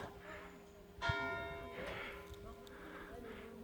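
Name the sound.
church bell ringing in village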